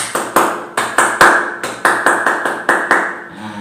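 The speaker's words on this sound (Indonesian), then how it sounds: "tepuk pramukanya seperti itu" A Scout clap rhythm (tepuk pramuka) played as a series of sharp, loud hand claps in an irregular patterned beat, about a dozen crisp strikes close by, with no talking.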